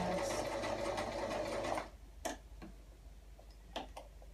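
A sewing machine stitches curved seams in fabric, running steadily and loud for under two seconds before stopping, followed by a few faint clicks and ticks from the machine.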